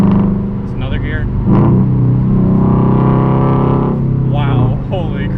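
A Subaru BRZ fitted with a JDL UEL header, front pipe and Tomei 80R exhaust accelerates hard through a gear, its loud rasping engine note climbing while a voice speaks over it inside the car.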